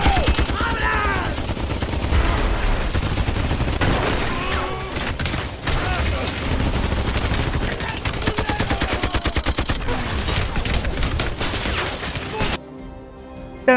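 Rapid automatic weapons fire from an action film shootout, dense overlapping bursts of gunshots crackling loudly and continuously, with shouting voices mixed into the chaos.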